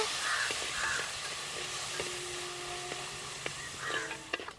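Minced garlic and long-cut ginger sizzling in hot oil in a pan, a steady soft frying hiss with occasional small pops and faint background sounds, no talk.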